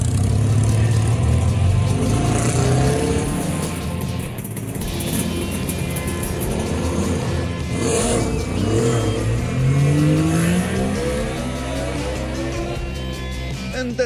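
Commander motorcycle engine running on an Italian road trip, rising and falling revs with audible gear changes, a mid-pitched engine note sweeping up and down over steady road rumble.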